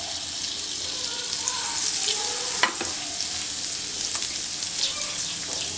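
Butter sizzles steadily in a heated nonstick pan, a continuous bright frying hiss with a few small pops and clinks, fairly close and without talk.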